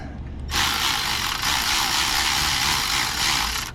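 A ratchet works on a motorcycle chain adjuster hidden behind the brake pedal, giving a loud, steady buzzing whir that starts abruptly and runs for a few seconds, close up.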